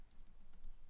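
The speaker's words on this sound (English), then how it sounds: "And let's type Thomas" Keys clatter on a computer keyboard in a quick run of light taps, faint and close, with no other sound.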